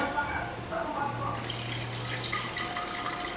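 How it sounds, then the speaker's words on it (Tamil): Dissolved tamarind water poured into a curry of drumstick, brinjal, dried fish, raw mango and beans, a soft continuous liquid pour and splash heard close, a voice faintly present. "இந்த புளியை வந்து கரைச்சி இதில் வந்து நான் சேர்த்துக்கிறேன்"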